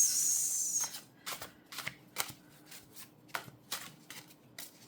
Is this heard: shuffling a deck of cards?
yes